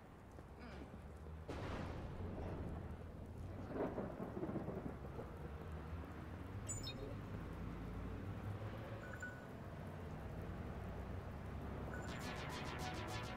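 Steady rain with rolling thunder rumbling in the background in the video game Watch Dogs, a continuous wash of sound with low booms, moderately loud throughout.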